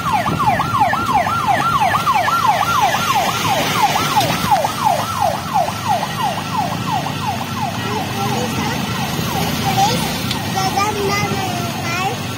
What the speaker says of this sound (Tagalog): Giveaway sa ambulansya.